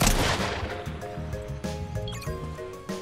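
A shotgun blast in the video game Fortnite opens with a loud burst, then fades under ringing tonal game sounds and music, with a few softer clicks and impacts after it.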